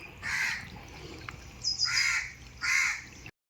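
Crows caw near a stream in a Konkan village garden, giving three distinct harsh calls spaced about a second apart. The calls are clear and fairly close over a soft background hiss.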